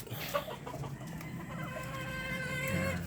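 Pullets about five to six months old cluck softly in a backyard, with overlapping, murmuring calls and a louder, drawn-out call toward the end, close and steady with no talking.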